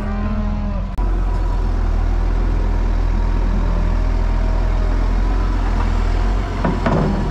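Cows in a freshly opened pen moo loudly and close by in long, deep calls, with a steady engine idling underneath.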